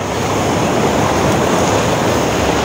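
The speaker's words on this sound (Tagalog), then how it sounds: "Alon lang yan." Ocean waves wash continuously at a shoreline fishing spot, a loud, dense, unbroken surf roar mixed with wind buffeting the microphone, with no voices.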